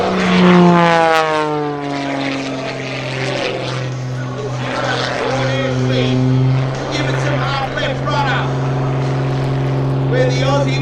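A Wolf Pitts Pro aerobatic biplane flies at an airshow, its propeller engine droning loudly and rising and falling in pitch as it passes. An announcer speaks over it throughout.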